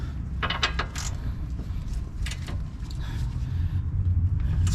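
Mechanical clicking and ratcheting while a rear shock fastener on a 2005-and-later Scion/Toyota xA, Yaris or xB is tightened a bit past its torque setting, a few sharp clicks over a low steady background hum.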